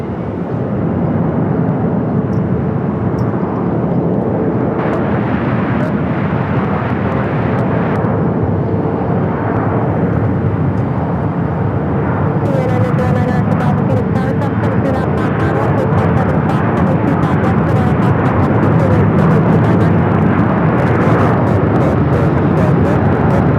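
An Airbus A319 airliner taking off from runway 25 left at Phoenix Sky Harbor, a loud sustained jet engine roar with broad rushing noise that builds slightly over the stretch.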